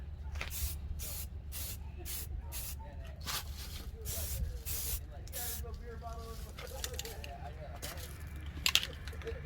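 Spray paint is applied outdoors to restored G-body Cutlass door panels in a string of short, regular hissing bursts. The spraying is faint and sits among background noise, with some talking alongside.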